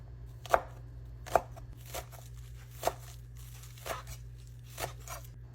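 Green onion being chopped with a knife on a board for an imitation crab salad, six separate cuts spaced at an uneven pace, each a crisp close tap over a low steady hum.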